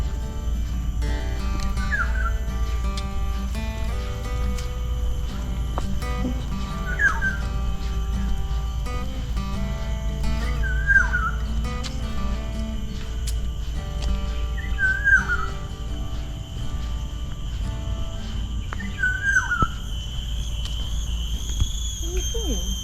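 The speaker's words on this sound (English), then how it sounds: "Do you hear that awesome bird?" Small yellow bird in Singapore's Botanical Gardens repeating a short whistled song phrase about every four seconds, moderately distant, over a steady hum of background noise and other faint birdsong.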